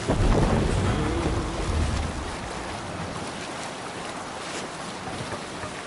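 A sailing ship moves across the sea in the video game Valhalla, with a steady broad wash of wind and water that is loudest at the start and then settles into a constant rushing roar.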